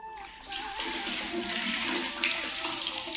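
Water runs steadily from a tap or hose during a bedroom deep clean, a continuous rushing splash at moderate distance with no talking.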